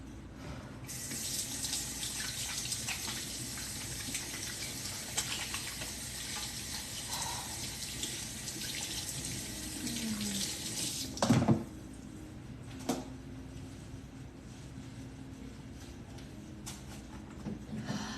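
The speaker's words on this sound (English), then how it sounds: "I need to wash my hands first." Water runs steadily from a tap into a sink, with a few splashes and clunks partway through as hands move under the stream.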